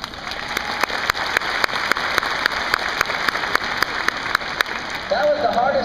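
Audience applause follows a horse's ground-tying trick: steady crowd clapping with a few sharp, close claps standing out, and the clapping continues evenly throughout.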